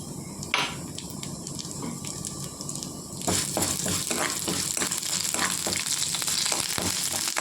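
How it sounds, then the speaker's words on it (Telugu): Urad dal dropped into hot oil in a pan, with some clatter followed by a dense, steady sizzle and crackle close by, and no talk. "నూనె వేసుకున్న తర్వాత మినప్పప్పు వేసుకోవాలండి."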